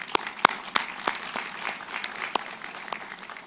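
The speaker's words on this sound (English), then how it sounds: "Please give a round of applause" Scattered applause from a small audience at a roofing company recognition ceremony, with a few sharp individual claps standing out over a thin, steady patter for several seconds, no voices.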